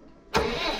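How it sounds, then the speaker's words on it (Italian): A Landini Trekker tractor engine cranks and fires up abruptly after a moment of quiet, settling straight into a close, steady idle. "Metto in moto."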